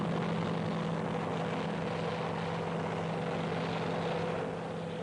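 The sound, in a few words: Huey helicopter coming in to land, Vietnam War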